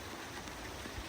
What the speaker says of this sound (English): It's raining pretty good, so I don't want to get too wet.